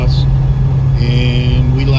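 A bus engine hums low and steady from inside the cabin while it travels from Pittsburgh to Florida in winter, with someone talking over the drone.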